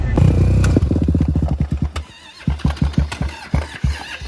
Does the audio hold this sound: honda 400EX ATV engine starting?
yes